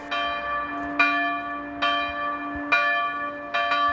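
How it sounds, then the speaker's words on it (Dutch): Church bells of the Cosmas and Damianus church in Groesbeek ring out loud and clear, each stroke striking at roughly one-second intervals and leaving a long ringing hum between hits. "de ploegie Cosmas en Damianus in Groesbeek sluit zich aan bij de landelijke actie om de klokken te luiden voor de Oekraïne"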